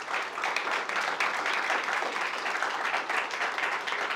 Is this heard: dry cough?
no